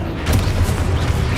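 A Confringo spell blast in the game Hogwarts Legacy, a sustained low booming rumble with a burst near the start, loud and close, continuing without a pause.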